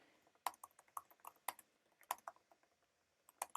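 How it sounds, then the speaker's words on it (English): Irregular bursts of computer keyboard typing, close and fairly quiet, with scattered keystroke clusters and short pauses between them and no voices. "you can watch me typing"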